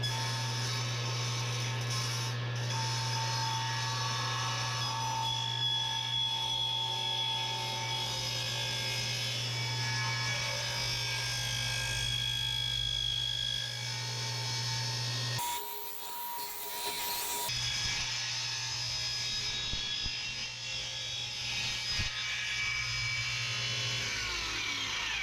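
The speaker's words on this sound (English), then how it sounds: "I'm going to attempt to cut this in half using the table saw" A table saw working through a block of myrtle wood, cutting it in half: a steady, loud motor drone with grinding blade noise that runs nearly throughout, briefly broken by a short burst of harsher noise partway through.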